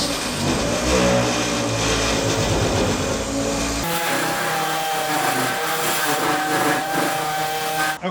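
Whirring drone of a DA sander with 80 grit disc working over Bondo body filler, loud and close, changing in pitch partway through as pressure shifts, running continuously without talk.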